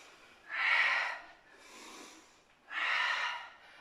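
Breathing during squats in a beginner home HIIT workout: two strong, close breaths, inhale then exhale, with a softer breath between them, and no talking.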